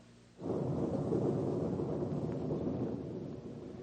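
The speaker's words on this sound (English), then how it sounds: "Oh, dear, we're going to have a storm." Thunder rolls in before a storm, a deep rumbling swell that rises suddenly, then sustains heavily for several seconds before easing slightly, loud and alone without voices.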